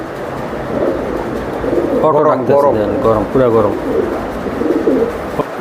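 Pakistani teddy racer pigeons cooing close by, a run of several rhythmic coos in the middle, with someone talking before and after.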